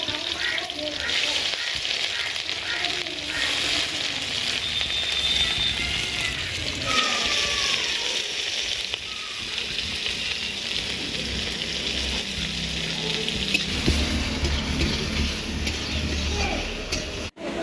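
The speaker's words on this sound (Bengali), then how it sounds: "তেল আমার গরম হয়ে গেছে, আমি পেঁয়াজটা ছেড়ে দিলাম।" Chopped onions fry in hot oil for a chicken keema, a loud steady sizzle running throughout with occasional stirring clatters and crackles close by.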